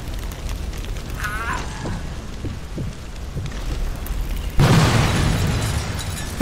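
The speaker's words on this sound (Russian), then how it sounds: "Обожаю взрывать тачки эти." A deep, heavy boom of a car exploding in the video game Sniper Elite 4 bursts in partway through, followed by a rumbling roar that lingers over a steady background hiss.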